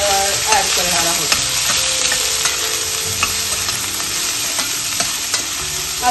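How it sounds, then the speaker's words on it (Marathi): Chopped onion sautés loudly in a pan, a dense steady sizzle broken by small regular stirring clicks, with no voices. "कांदा थोडासा चांगला परतवा."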